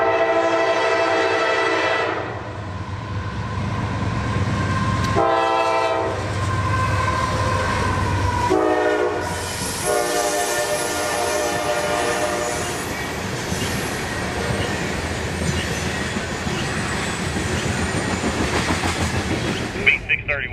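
A CSX freight train, number 631, rolls southbound near Jacksonville, Florida, loud and close. Horn blasts sound near the start, then a steady rumble and clatter of cars continues throughout.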